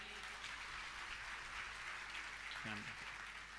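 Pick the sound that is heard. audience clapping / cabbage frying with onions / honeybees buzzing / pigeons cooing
audience clapping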